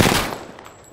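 Burst of video game gunfire, a loud broadband crack at the start that fades into a decaying tail over under a second, with no talk over it.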